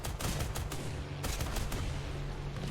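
Rapid bursts of 30mm cannon fire from a Me-410 attack aircraft in War Thunder, a dense, loud stream of heavy thumping shots with a steady low engine drone beneath.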